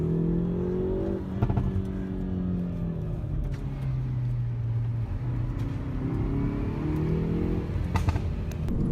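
A Mini JCW Convertible engine revs up and down repeatedly, its pitch rising and falling, with a few sharp crackling pops from the exhaust.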